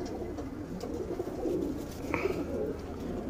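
Pigeons for sale, racing birds ready for 5-6 hour flights, give soft low coos close by, mixed with faint rustling.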